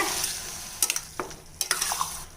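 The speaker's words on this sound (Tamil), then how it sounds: "இப்போ இதை நல்லா பெரட்டி விட்டுக்கலாங்க" Spoon scraping and stirring minced meat and liver in a pan with a soft sizzle underneath, a few sharp clatters standing out from the steady frying.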